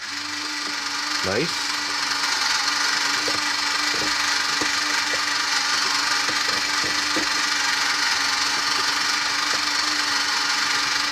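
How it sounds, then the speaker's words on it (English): A Kenner Easy Bake Mix 'N Make baking center mixer runs with a continuous loud motor whir and faint scraping underneath, while a voice speaks briefly near the start. "let's see what happens when I turn it on"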